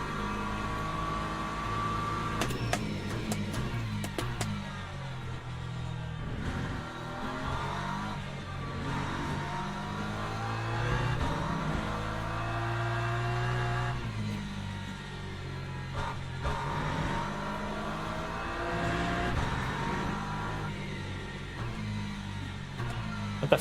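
A hypercar engine in the Le Mans Ultimate racing game drones steadily, its pitch rising and falling through gear changes across a sustained, moderately loud run.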